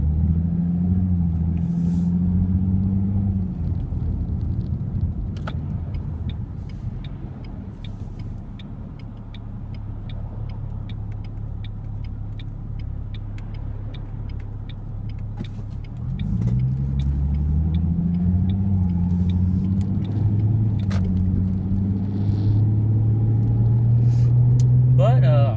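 A 2006 Ford Mustang V6 driving, its steady engine drone and low road rumble continuous throughout, swelling with louder revving near the middle and again toward the end, heard from inside the car.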